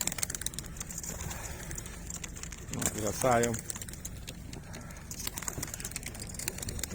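A racing pigeon gives a brief, soft coo partway through a winter training flight return, surrounded by outdoor noise while someone talks.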